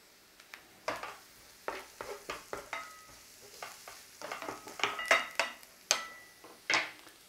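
Garlic fries gently in a pan over a low flame as the base for a red wine sauce. Soft sizzling runs under a series of scraping stirs and clinks of a utensil against the pan, close up, with no talk.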